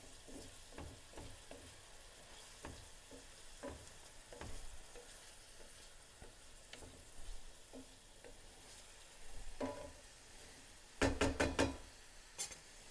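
Olive oil frying in a pan, with a steady quiet sizzle broken by scattered knocks and stirring scrapes and a louder clatter of utensil hits toward the end, no talking.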